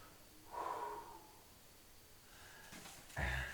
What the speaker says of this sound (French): Respiration profonde.